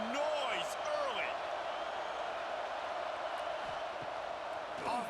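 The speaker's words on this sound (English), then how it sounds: "This crowd bringing the energy and noise early." A college football stadium crowd at an Alabama home game roars as a steady, distant wash of noise, with a commentator talking over it and brief whistles or shouts cutting through.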